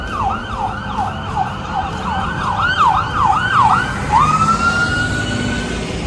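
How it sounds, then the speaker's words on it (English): A fire engine siren wails past, its repeated rising and falling sweeps ending in a long steady tone, loud and close over a background of traffic and road noise. "there's a fire engine."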